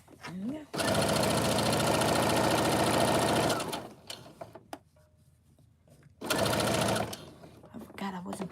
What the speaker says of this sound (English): And we're going to just add it, chain stitch it.